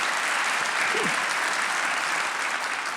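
An audience at a city State of the City address breaks into steady, dense applause, a sustained wash of clapping heard at moderate distance throughout.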